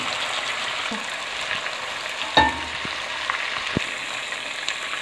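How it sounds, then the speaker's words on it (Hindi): Chicken fries in a pan for curry with a steady, fine sizzle throughout, a sharp clatter and a few soft taps of stirring breaking through the hiss. "अभी चिकन को फ्राई कर रहे हैं हम।"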